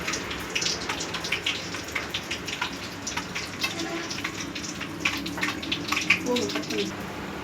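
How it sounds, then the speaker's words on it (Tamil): Water poured into a bowl of cornflour mix and stirred for egg masala snacks, a steady splashy trickle with scattered wet clicks and sloshes, close and moderately loud throughout. "கொஞ்சமாக கான்ஃப்ளவர் மாவு அந்த முருகலுக்காக கொஞ்சம் தண்ணி ஊற்றி மிக்ஸ் பண்ணிக்கலாம்"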